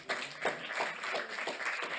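An audience applauds in thanks for a guest at a film evening: steady, fairly close clapping from a crowd, sustained for about two seconds, with no talk over it.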